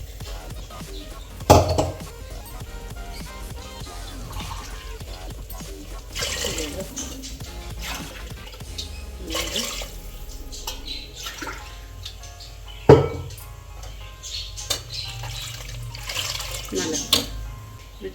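Water is poured into a pot of fried jeera masala and peas for Kannada-style peas rice. There is a steady liquid rush with occasional clatters of vessels against the pot, and muffled background sounds throughout.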